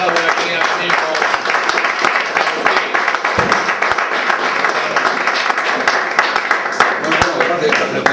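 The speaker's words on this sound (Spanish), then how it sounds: "vamos a darle un pequeño aplauso aquí" Audience in a lecture hall applauding after a talk on Basque pelota, sustained dense clapping with scattered sharper claps and a few voices murmuring underneath.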